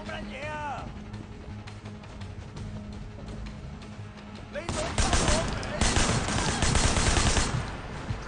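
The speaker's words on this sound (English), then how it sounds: "I don't even know what I'm shooting at now." Automatic gunfire crackles through a Sleeping Dogs shootout, steady bursts at first that swell into a louder, denser barrage of rapid shots in the second half, close and continuous, with game voices mixed in underneath.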